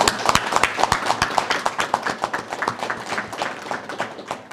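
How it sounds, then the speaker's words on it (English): Audience at a firefighter cancer coverage press conference giving a round of applause, a moderate crowd of distinct, fairly sparse claps, uneven in rhythm and easing slightly toward the end. "You deserve a round of applause"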